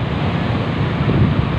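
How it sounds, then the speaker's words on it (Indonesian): Ocean surf rolling onto Padang beach in Indonesia, a steady broadband wash of breaking waves with low rumbling swells and some wind across the microphone, continuous and fairly close throughout. "Ombak"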